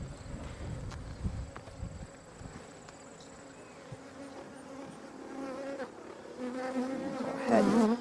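Honeybees buzz around hive frames as they move into a new hive, a continuous close insect drone with rattling frame handling early on and louder, nearer buzzing at the end.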